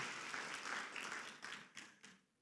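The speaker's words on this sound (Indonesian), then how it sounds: "berikan tepuk tangan dong" A church congregation applauds during a worship service, a dense wash of clapping that swells, breaks into a few separate bursts and then fades out, heard on its own with no talking.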